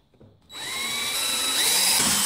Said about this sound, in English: I've got this tiny little padlock that I could easily drill through there.